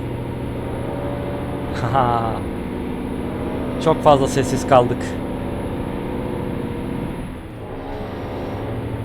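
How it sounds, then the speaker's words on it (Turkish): Bus engine in Euro Truck Simulator 2 drones steadily throughout while driving, with someone talking briefly over it in two short bursts. "Otobüsün sesini dinleyin."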